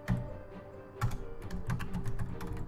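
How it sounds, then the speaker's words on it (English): Typing on a computer keyboard during a Brawlhalla gaming session: quick, uneven bursts of close key clicks and clacks with no talking. "What are you typing?"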